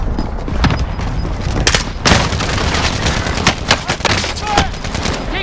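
Rapid gunfire and heavy explosions in Call of Duty: Modern Warfare, loud and dense, with bursts of automatic fire and sharp booms packed tightly across the whole stretch.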